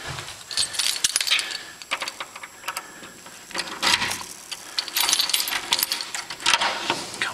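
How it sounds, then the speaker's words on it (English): A bunch of keys jangles and clinks as it is pulled out at a front door in the evening, with irregular metallic rattling bursts throughout. "Just get the keys out."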